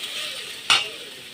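Ginger garlic paste frying in a pan for a village-style doi potol recipe, a steady sizzle with one sharp scrape of the spoon stirring midway, close and clear.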